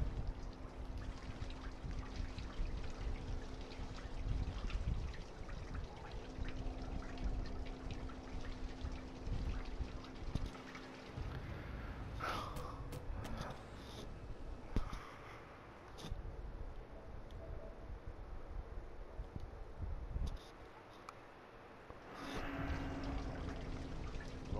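Steady water pouring and trickling in the survival horror game Outlast, a continuous wash of splashing that thins and changes texture partway through, with no talk over it.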